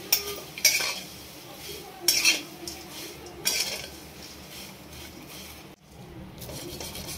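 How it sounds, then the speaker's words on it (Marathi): Spice flowers being roasted in a spoonful of oil in a kadhai: a spoon scrapes and stirs with metallic clinks in several bursts, alongside a soft continuous sizzle, close and alone. "आता आपण हे फूल कढईत टाकून घेऊ"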